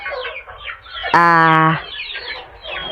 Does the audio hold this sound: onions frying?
no